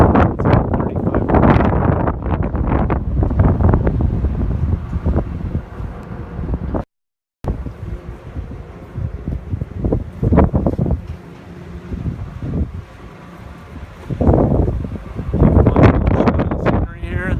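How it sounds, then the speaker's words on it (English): Strong 25 mph wind gusting to 35 mph buffets the microphone at Sandia Peak in loud, roaring gusts, with rustling noise throughout and a brief dropout partway through. "A little bit windy. It's a 25-mile-an-hour wind"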